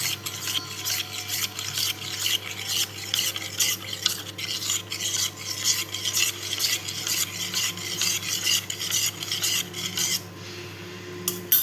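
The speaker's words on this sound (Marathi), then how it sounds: "इथे आता आपण कस्टर्ड पावडरमध्ये दूध टाकून मिक्स करून घेऊया" Spoon steadily stirring milk into custard powder in a bowl, a continuous close scraping and swishing rhythm that runs without pause, with a brief clink near the end.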